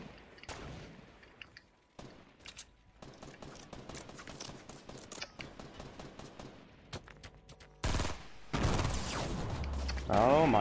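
Gunfire in Fortnite, rapid bursts of clicking shots running through most of the stretch, then louder blasts and effects toward the end, with a player talking over it.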